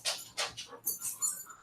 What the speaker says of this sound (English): And I apologize if my dogs, if you can hear them in the background, they're wrestling on the floor behind me